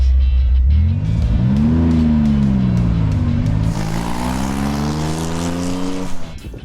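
Race car accelerating hard through the gears, engine pitch climbing in several sweeps with shifts between, loud and close, fading slightly at the end.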